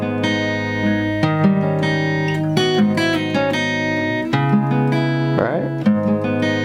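Acoustic guitar playing a riff in a lesson setting, plucked notes and chord changes ringing clearly and up close, with no talking over it.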